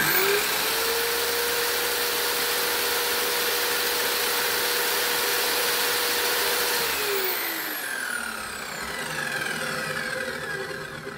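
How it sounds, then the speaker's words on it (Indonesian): A Hassto circular saw, set up for acacia wood, whirs with a loud, steady motor whine. Near the end the whine winds down as the blade coasts to a stop, with no clear cut into wood. "Kita akan langsung tes untuk performa dari mesin circular saw ini."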